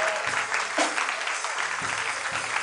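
A church congregation applauding to acclaim Jesus during a Paris prayer vigil produces a sustained, fairly close clatter of many hands clapping, with faint rhythmic thumps beneath.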